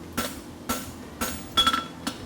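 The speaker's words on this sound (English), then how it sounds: "Come up from the floor, pull my hammer towards my shoelaces" A blacksmith hammers hot metal at a world championship forging event, shaping a caulking with five sharp metallic strikes at a steady rhythm, the fourth a quick double ring, close and clear with no talk.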